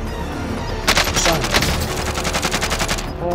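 Rapid automatic gunfire rattles in a one-versus-one round of a first-person shooter video game, a loud burst of evenly spaced shots lasting nearly three seconds over game ambience.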